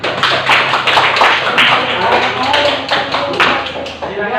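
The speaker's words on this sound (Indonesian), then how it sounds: "Ya, silakan beri aplaus untuk kelompok 2 ya." Classroom applause for a student group, a dense patter of many hands clapping that runs steadily throughout with murmured voices mixed in.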